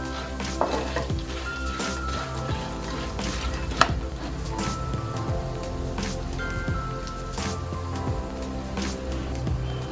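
Peanuts and roasted gram frying in a pan for spicy Kerala mixture, with a dense, steady crackling sizzle and scattered sharp pops throughout, close by and with no talking.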